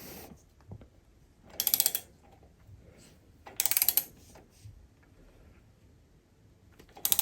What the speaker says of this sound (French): On va voir si j'arrive à serrer au couple ou pas.